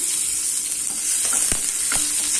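Finely chopped large onion fries in oil with fennel seeds for white kurma, sizzling steadily up close while a spoon stirs it, adding occasional scraping clicks against the pan.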